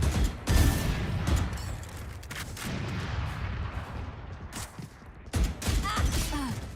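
Rapid Valorant gunshots crackling in sharp bursts, a dense volley near the start and again toward the end, layered over steady match ambience at moderate loudness.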